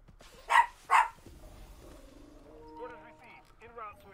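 A dog indoors gives two sharp, loud barks close by, followed by a quieter tail of sound while a person talks.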